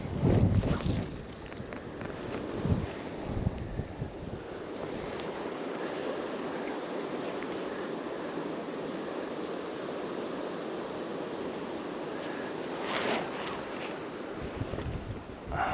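Wind gusts across the river Dee in Scotland during a July salmon fishing trip, a steady rushing roar against the microphone with a few heavier buffets at the start and near the end.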